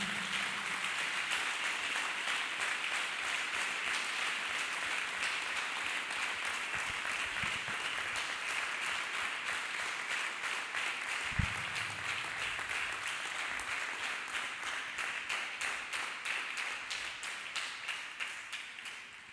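A church audience gives Master Jesus a long, steady round of applause, a dense, even wash of many clapping hands that goes on for the whole stretch, with a few louder knocks here and there.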